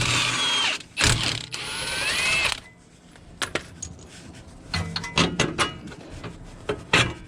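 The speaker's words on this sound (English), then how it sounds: "So we're going to crack all these bolts loose" A wrench loosens suspension bolts on a Lexus IS300, giving close metallic ratcheting and clanking in several bursts, with two long grinding stretches early on and shorter clicks and knocks afterward, with no talk.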